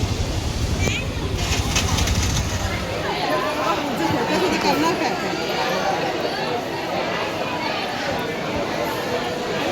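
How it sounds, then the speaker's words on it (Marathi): Dense crowd babble fills Kankavli railway station on the Konkan Railway as travellers head back to Mumbai, many overlapping voices with footsteps and bustle, loud and continuous throughout. "किती गर्दी आहे बघा कणकवली रेल्वे स्टेशनला"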